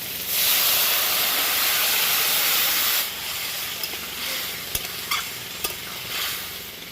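An egg and soybean curry is tipped into a hot pan with cumin powder, setting off a loud, steady sizzle for about three seconds. The sizzle then settles into a quieter hiss broken by a few clinks of stirring.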